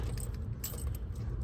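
A small bunch of keys jangles close by while different keys are tried in the ignition of a 1953 Packard Clipper, quiet metallic clinks over a low background rumble.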